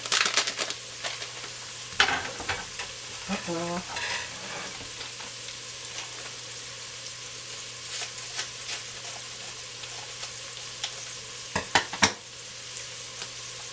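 Ground beef with taco seasoning sizzles and fries in a pan, with steady crackling broken by scraping stirs and occasional louder clatters.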